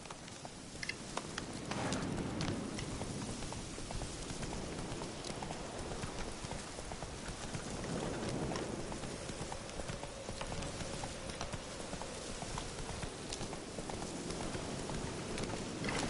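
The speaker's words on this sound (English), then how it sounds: "Run, Roach." A horse gallops in The Witcher 3 video game, its hoofbeats loud, close and continuous in a steady driving rhythm over outdoor ambience for the whole stretch, with no talking.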